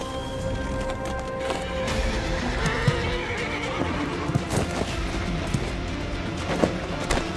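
A horse whinnies and stamps amid the clatter of hooves in a dramatic period scene, loud and near, with a busy rumbling background of movement and clopping over several seconds and no speech.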